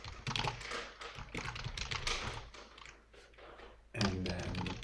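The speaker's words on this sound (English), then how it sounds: "There's too much typing, man." Fast typing on a computer keyboard during coding work, close and busy, with dense bursts of key clicks running nearly the whole time and a brief pause before another flurry.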